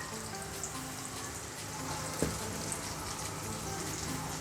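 Pieces of elephant foot yam (suran) fry over full flame in a pan, giving a steady, close sizzle and crackle with a few small pops and scraping stirs. Nobody talks over it.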